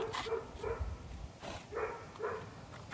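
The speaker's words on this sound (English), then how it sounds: "Got puppies around here playing, doing their puppy thing." Puppies bark in short, playful bursts with a few quick yips, spaced irregularly at moderate distance over a steady background hum.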